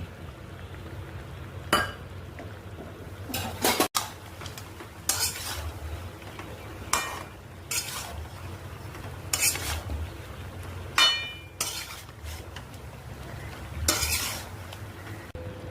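Chicken stew sautés with ground spice paste in a pan. A soft sizzle runs underneath while a utensil scrapes and clinks against the pan in repeated stirring strokes about every second or two, close by, with no speech.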